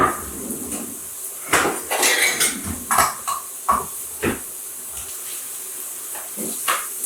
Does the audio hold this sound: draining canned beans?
yes